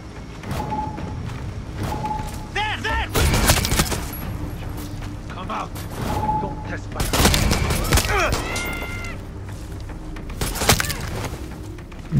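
Gunfire from the video game Far Cry 6, with several loud bursts and booming shots cutting through a steady battlefield din, while a voice talks over the action.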